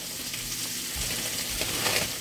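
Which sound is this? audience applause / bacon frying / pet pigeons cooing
bacon frying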